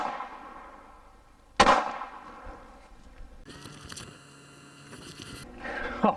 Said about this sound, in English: So I'm going to shoot the Lehigh Defense 65 grain XD first, and then followed up by the Federal 90 grain Hydra Shok.